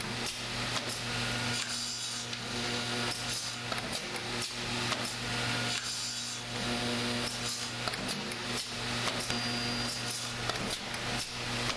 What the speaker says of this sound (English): An electric eye senses the presence of the wood and starts the machine in motion.